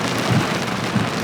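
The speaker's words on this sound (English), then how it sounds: "It's raining harder, and I have to still run through the rain to get into the house." Heavy rain pours down steadily and close by, a dense, continuous wash with no voices over it.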